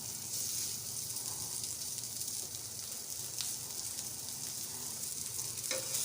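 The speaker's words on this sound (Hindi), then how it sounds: "अब मैं कबाब इसमें फ्राई करूँगी।" Kebabs frying in hot oil in a pan, giving off a steady, dense sizzle and crackle that stays even throughout, close and alone.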